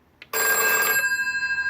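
A DMX ringer box rings a telephone bell on its second input, a loud metallic ring starting after a brief click and then decaying in a rapid pulsing tremolo.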